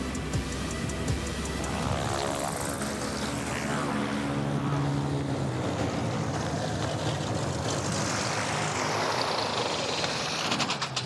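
A small airplane in aerobatic flight, its engine and propeller droning loud and steady, with the pitch rising and falling as the aircraft maneuvers, and no talking.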